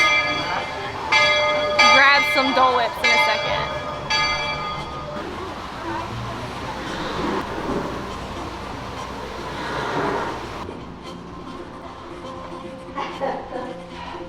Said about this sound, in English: I think the train's coming through, so it's really loud.